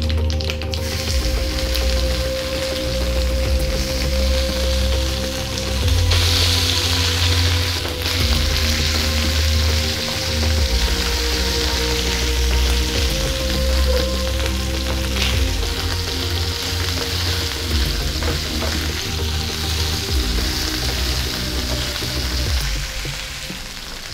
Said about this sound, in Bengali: ফোড়নটা ভাজা হচ্ছে, এবার সেদ্ধ করা টুকরো আলুগুলো দিয়ে দিচ্ছি